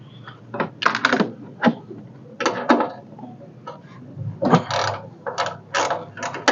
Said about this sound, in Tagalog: So 10mm gamit natin dito na pangtanggal na wrench.